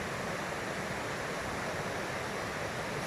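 The River Twrch, a fishing river, flows with a constant broadband rush of water, steady and unbroken, heard close with no voices over it.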